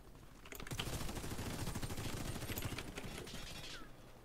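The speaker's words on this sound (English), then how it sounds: "That's a machine gun." Rapid machine gun fire in the Warface shooter game, a fast, steady stream of shots over several seconds, moderately quiet.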